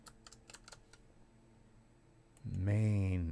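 Light keystrokes tap on a computer keyboard in a handful of quick, faint clicks, followed by a louder voice that cuts in near the end.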